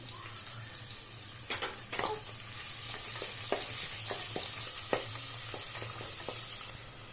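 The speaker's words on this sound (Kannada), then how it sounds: "ಈಗ ನಾನು ಕಟ್ ಮಾಡಿ ಇಟ್ಕೊಂಡಿರೋ ಒಂದು ಮೀಡಿಯಮ್ ಸೈಜ್ ಈರುಳ್ಳಿನ ಹಾಕ್ತಾ ಇದ್ದೀನಿ ಫ್ರೈ ಮಾಡ್ಕೊಳ್ಳಿ" Chopped onion frying with spices in a pan, a steady sizzle broken by repeated spatula clicks and scrapes as it is stirred.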